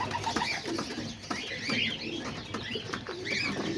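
Homing pigeons coo continuously in their loft, several birds overlapping in soft, steady rounds with occasional chirps, close and moderately loud, no talking.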